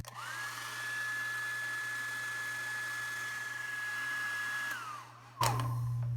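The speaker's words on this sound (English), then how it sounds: "I'm going to use the hairdryer for a little bit" A hair dryer drying a watercolor painting runs with a steady high whine and rushing air for several seconds, then spins down and is followed by a loud clunk.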